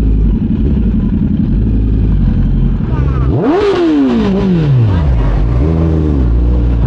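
A Kawasaki ZX10R fitted with an SC Project SC1-R carbon exhaust idles loudly close by, then gives one sharp rising rev that peaks and falls away, followed by a second, smaller blip.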